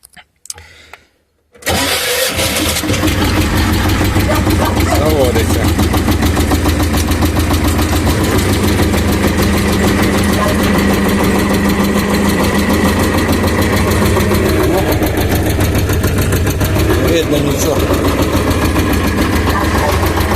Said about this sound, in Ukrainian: Зараз ми заводимо, я покажу, що все і так.